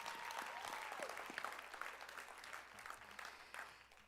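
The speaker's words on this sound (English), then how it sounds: "Go ahead and give yourself a round of applause." Applause for graduating nurses at a pinning ceremony, a crowd clapping steadily and densely throughout, fairly distant and moderately quiet, with a few faint voices mixed in before it tapers off at the end.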